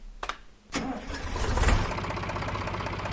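In Farming Simulator 19, a Fiat 640 tractor's 3.5-litre four-cylinder engine: a couple of clicks, then it cranks and fires up, revving briefly before settling into a steady low rumbling idle, close by.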